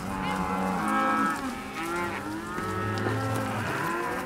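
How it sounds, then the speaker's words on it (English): Several cattle moo in overlapping, drawn-out calls, some low and some higher, loud and steady throughout. "There's a lot of cows out there."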